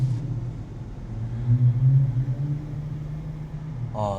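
A deep engine rumble swells and settles as a Porsche 911 GT3 Touring revs nearby, followed by a brief voice at the end.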